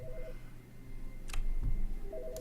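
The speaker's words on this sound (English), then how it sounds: "Oh, somebody's on the phone." Telephone in The Stanley Parable video game ringing with short electronic tones, one burst at the start and another at the end, moderately loud over a low background hum, with a brief click midway.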